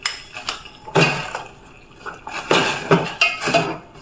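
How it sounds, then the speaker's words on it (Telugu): Pieces of jaggery go into a pot of boiling water in a kitchen while cooking bellam kudumulu, giving several sharp clinks and knocks of utensils against the pot in irregular bursts, with no talk. "బెల్లం అందులో వేసి"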